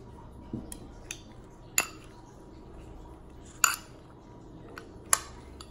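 A few sparse, close metal clinks of cutlery against a plate while rice, fried milkfish, fried eggs and pancit canton are mixed with soy sauce, separated by quiet pauses.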